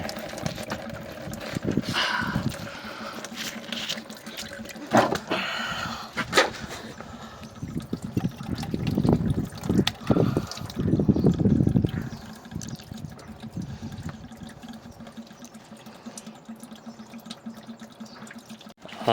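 Engine coolant drains from a 2019 BMW X1, a steady, uneven trickle and splatter of liquid running for a while with occasional louder gurgles and clanks.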